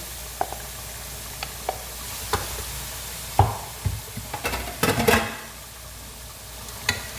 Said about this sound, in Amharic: ቀይ ስሬን በደንብ ሽንኩርት ጋር አዋህጃለሁ።